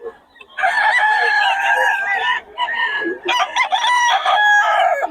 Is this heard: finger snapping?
no